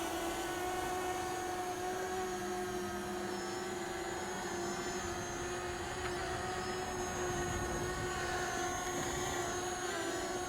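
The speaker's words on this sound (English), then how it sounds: "let's bring the drone around here" A Fimi X8 Mini drone hovers above a park with a steady, high-pitched whine from its propellers, heard from a distance as a thin, constant hum with wind noise around it.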